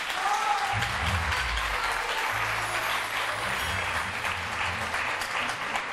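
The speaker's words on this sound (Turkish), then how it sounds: "Alkışların bitmesini bekledim, özür diliyorum." Sustained, dense applause from a studio audience on a Turkish daytime talk show, loud and steady throughout with a brief low rumble underneath and no voices on top.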